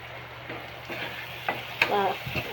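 Ginger garlic paste sautéing with onion and tomato, a gentle sizzle under repeated scraping and stirring strokes, with a few louder clatters of the spoon against the pan.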